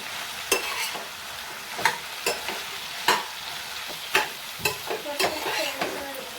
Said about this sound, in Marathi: भोपळी मिरची कांदा टोमॅटो परतून झाले की त्यामध्ये हा सोयाबीन भिजवलेला आहे तो घालून घेते।